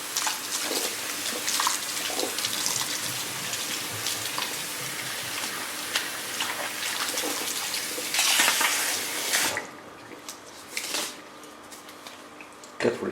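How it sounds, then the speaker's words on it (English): Water runs steadily as perm solution is rinsed out of hair, a loud continuous splashing hiss for about nine seconds that then drops away to a few softer drips and handling sounds. "Leave it for a minute. Then rinse it out."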